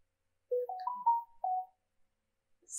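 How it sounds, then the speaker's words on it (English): A phone's text message notification chime rings once as a short rising sequence of bright tones, clear and alone in silence, with a faint high blip just after. "the text message is coming in on my phone with a verification code"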